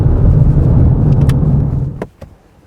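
A Lexus LS 500h hybrid car engine revving hard, a loud, close roar that holds for about two seconds and then cuts away abruptly to quiet, with a couple of faint knocks afterward.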